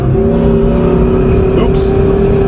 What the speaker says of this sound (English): Awesome boxer sound